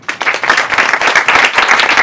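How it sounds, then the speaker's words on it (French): Audience applause at an amateur adult theatre show's end-of-year performance in Paris, close, dense clapping that swells quickly and stays loud and continuous. "on les applaudit bien fort."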